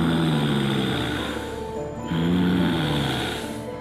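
Eerie, drawn-out breathing in a horror story, two long rasping breaths, one ending near the middle and another starting right after, close and fairly loud over a steady low drone, no talk.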